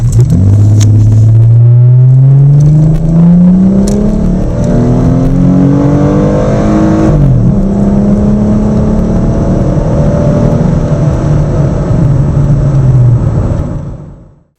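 A Chrysler 300 with the 2.7-liter V6 accelerating hard: a loud, close engine drone climbs in pitch, drops at a gear change, then rises again before fading out at the end.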